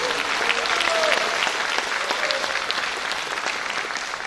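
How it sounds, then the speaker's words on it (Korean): Sustained applause from a crowd at a rally, a dense even wash of clapping lasting the whole stretch at a fairly loud, steady level. "큰 박수 부탁드립니다."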